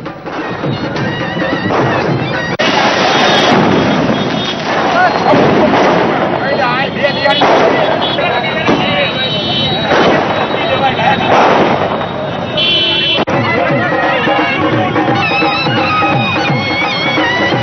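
Fireworks and firecrackers set off by a crowd celebrating a political decision: dense, continuous crackling and booming bursts, loud and close, with voices mixed in throughout.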